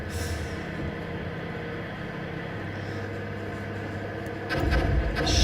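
Tank engines in the video game Armored Brigade drone with a steady, heavy mechanical rumble throughout, loud and close, swelling into a louder roar near the end.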